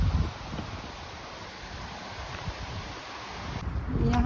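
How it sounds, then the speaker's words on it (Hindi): A long, wide waterfall in a park pours as a steady broadband roar of rushing water, constant and fairly close, with no voices over it. "तो उधर से काफ़ी लंबा जो वाइड सा वॉटरफॉल है, बहुत खूबसूरत पानी की आवाज़ आ रही है।"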